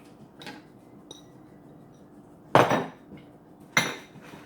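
Mango salad with fresh crab being tossed in a bowl: a faint clink early on, then two louder clattering knocks of utensil against the bowl about a second apart, over quiet room tone.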